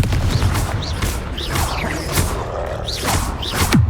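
Confringo blasting spells in the video game Hogwarts Legacy fire off in a rapid series of sharp bursts and crackles. Several hits land over a few seconds under busy combat noise.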